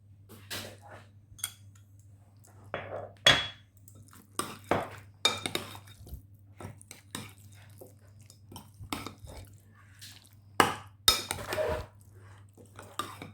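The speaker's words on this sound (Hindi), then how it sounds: "पहले अंडा और चिकन अच्छी तरह से मिक्स कर लें।" Egg and chicken pieces are mixed in a bowl for fried chicken wings and boti, giving scattered clinks and scrapes of a utensil against the dish, intermittent and fairly quiet over a low steady hum.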